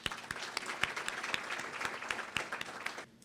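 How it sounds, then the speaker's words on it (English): An audience at a legislative breakfast gives a round of applause, a dense burst of many hands clapping at moderate distance that fades out near the end. "Let's give them a round of applause."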